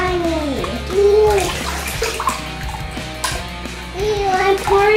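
Thick slime is poured onto a child, giving wet, squelching, splashy sounds in loud bursts while children talk and squeal over it.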